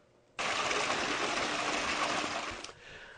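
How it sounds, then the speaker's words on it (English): Pool waterfall feature fed from a deck stub up: a steady, close rush of gushing water starts abruptly, runs for about two seconds, then eases off, with no voices. "here's a waterfall running from our stub up."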